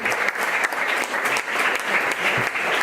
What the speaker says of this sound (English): Give this young man a big round of applause.